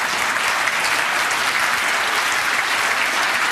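A TED talk audience breaks into applause, and a dense, even roar of many hands clapping carries steadily throughout at moderate loudness. No voices are heard.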